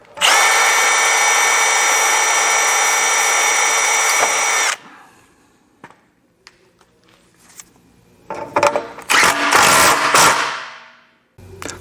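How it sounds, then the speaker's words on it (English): A power drill with a 3/16 bit pre-drills a hole for a set screw in an aluminum deck railing post, whining steadily and loudly for about four seconds, then quiet handling and a second harsher burst of drilling. "Pre-drill with a 3/16 bit to install your first set screw."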